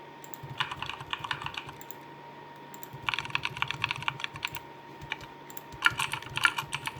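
Bursts of rapid, crisp simulated keyboard clicks generated by a sound app, with short pauses between them, close and moderately loud over a faint background hum.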